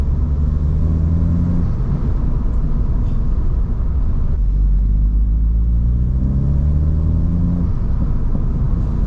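An F56 Mini Cooper S engine drones loudly and steadily from close by, its revs sweeping up and falling back twice.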